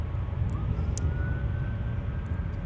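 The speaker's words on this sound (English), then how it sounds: "Delta 377 is off to Anchorage. It's at the 321 Neo typically." A Delta Airbus A321neo departs an airport runway for Anchorage, a steady, heavy low-frequency engine roar holding constant, with a faint thin tone running above it and no talking.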